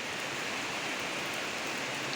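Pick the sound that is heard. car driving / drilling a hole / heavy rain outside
heavy rain outside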